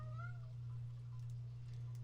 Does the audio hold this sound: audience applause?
no